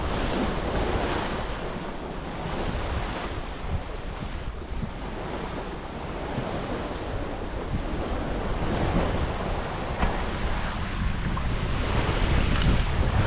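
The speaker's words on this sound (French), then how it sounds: "le vent s'était levé et le bateau avance très bien, on est entre 6 et 7 nœuds et ça souffle beaucoup" Strong wind roars across the microphone as a sailboat runs at six to seven knots through waves on an Atlantic passage from Toulon to Menorca, with continuous surf and water rushing along the hull, loud and steady throughout.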